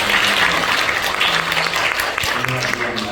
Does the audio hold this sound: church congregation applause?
yes